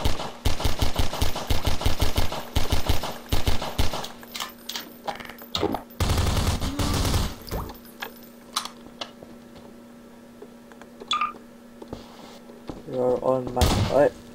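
Gunfire in Garry's Mod, bursts of rapid clicking shots in quick series followed by scattered single cracks and thuds, close and sharp, with people talking and shouting over parts of it.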